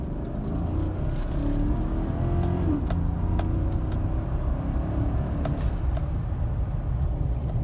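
A 2015 Chevy 1500 pickup with a 5.3L engine rumbles and revs from inside the cab, a steady low drone with a brief rise in pitch, fairly quiet and with no talking.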